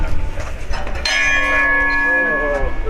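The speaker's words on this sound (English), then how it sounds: "that's a really loud gong" A loud gong struck as an emergency bell rings out once with a sharp attack and a long, sustained metallic shimmer that fills the rest of the moment, over faint background murmur.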